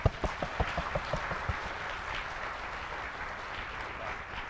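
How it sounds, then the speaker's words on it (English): An audience at a cryptography conference rump session breaks into applause, with a few sharp claps at first that blend into a steady, moderate wash of clapping from a crowd. "applause if you think this was the best talk"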